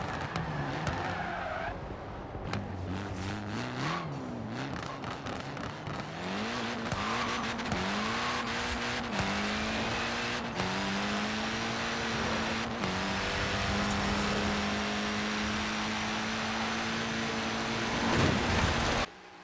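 A light, roughly 600-horsepower car in Forza Horizon 4 revs hard and climbs through gears, engine pitch rising in repeated sweeps with tire squeal, loud and close, ending in a final high burst.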